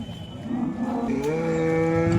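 A cow at the Modnimb cattle market in Maharashtra lets out a long, drawn-out moo that rises in pitch, close and clear over a steady market murmur, with no talking.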